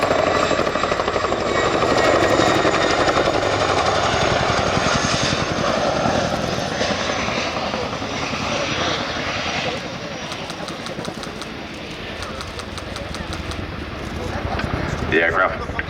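A military aircraft at an air show roars loudly and continuously as it decelerates and turns, its engine and rotor noise dense and sustained, with a commentator talking over it.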